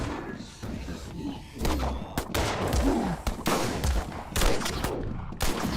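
Submachine gun fire in a shooter video game, rapid bursts of sharp close gunshots mixed with thuds and other weapon reports, a voice speaking briefly amid the shooting.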